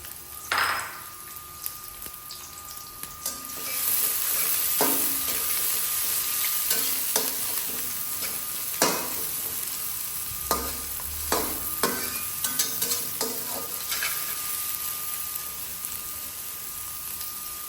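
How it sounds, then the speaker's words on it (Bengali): Hot oil sizzles steadily as chopped onions fry toward brown, with a utensil scraping and clinking against the pan now and then. "এখন তেলটা গরম হয়ে গিয়েছে এখন আমি পেঁয়াজ কুচি দিয়ে দিচ্ছি"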